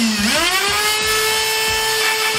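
Small electric flywheel motors of a Nerf Rival Nemesis MXVII-10K foam blaster whir up to speed with a rising high-pitched whine, then hold a steady buzzing drone, loud and close.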